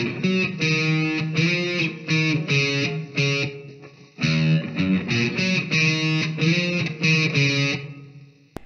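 A distorted electric guitar plays the chorus riff of a song, two layered parts in choppy repeated phrases with a brief pause midway, loud and close with no talking.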